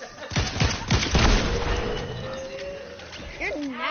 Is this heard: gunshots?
yes